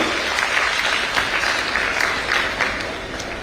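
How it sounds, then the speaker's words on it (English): Crowd applause at a hospital anniversary event, a full, continuous roar of many people clapping, fairly loud and close, with slight swells in intensity and no speech over it. "I think we can do better with that round of applause"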